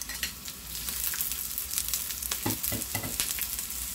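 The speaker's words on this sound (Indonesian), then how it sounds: "Taruh minyak secukupnya, panaskan untuk menggoreng bawang merah dan bawang putihnya dulu." Shallots and garlic fry in hot oil in a small pan, giving a steady close sizzle with scattered crackles and a few brief stirring scrapes near the end.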